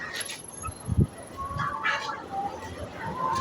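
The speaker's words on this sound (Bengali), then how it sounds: "অনেক বড় মুরগির খামার।" Chickens in a large poultry farm cluck and call in scattered bursts against a busy background murmur, with a brief thump near the start.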